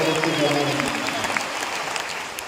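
A congregation claps together at the Mariagiri shrine festival, a sustained broad patter of many hands with a voice speaking over it.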